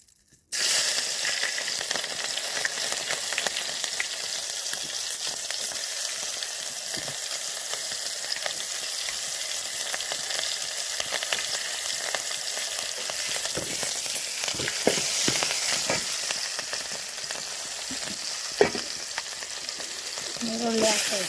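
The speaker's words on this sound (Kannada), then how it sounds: "ಈಗ ಒಗ್ಗರಣೆ ಕೊಡ್ತಾಯಿದ್ನಿ, ಸಾಂಬಾರಕ್ಕೂ ಕಾಳಿಗೂ ಎರಡಕ್ಕೂ ಹಸಿಮೆಣ್ಸಿನ್ಕಾಯಿ ಹಾಕ್ಕೊತಾಯಿದ್ನಿ." Whole spices and green chillies tempering in hot oil in a pan for sambar and a lentil dish, a steady close crackling sizzle that runs unbroken with faint stirring clinks and no talk.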